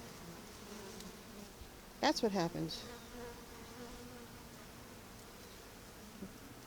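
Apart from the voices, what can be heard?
bees feeding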